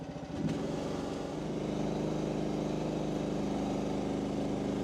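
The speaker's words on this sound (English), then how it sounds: "This is the little gas engine machine." A small gas-engine compact construction machine, an affordable digger, runs steadily close by, its engine holding a loud, even drone with a slight rev at the start and no talking over it.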